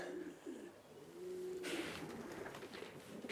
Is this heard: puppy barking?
no